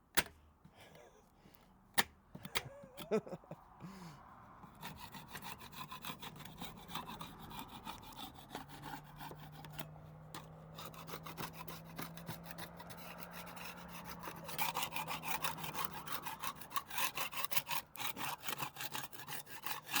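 Decades-old paint is scraped off wood by hand, rough repeated rasping strokes that grow faster and more rhythmic toward the end, close and fairly loud, with a few sharp knocks early on.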